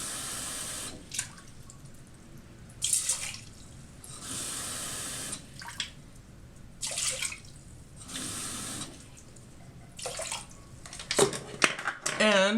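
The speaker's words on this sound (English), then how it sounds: "in a small pot, combine rice with 1 1/4 cup of water." Water poured from a measuring cup into a small pot of rice in a home kitchen, heard as several short splashing bursts with quiet gaps between them, close and moderately soft.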